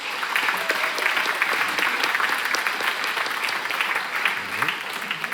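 Church congregation clapping to welcome back visiting members during a service, a dense, steady round of applause from a roomful of people, fairly loud and sustained, with faint voices mixed in.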